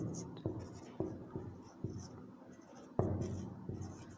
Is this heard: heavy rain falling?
no